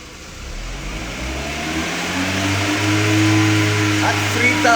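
A 2005 VW Jetta 2.0 with a lean condition is held near 3000 RPM after rising from a lower idle, giving a steady, loud, close engine drone that settles into a constant hum.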